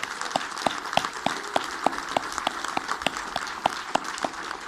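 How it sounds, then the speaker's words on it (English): An audience at a military change of command ceremony claps in a steady, rhythmic applause, sharp individual claps keeping an even beat against a wider patter of hands in a large space. "Let's take 5 seconds to give all of them a round of applause."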